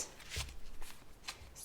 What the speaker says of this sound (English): Sometimes I walk around the house with a deck, just kind of giving them my energy and shuffling cards.